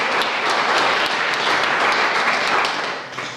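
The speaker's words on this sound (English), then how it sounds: "please applaud her" Audience applause fills the hall at a sports awards night for camogie players, a dense steady wash of clapping that holds throughout and tapers slightly at the end.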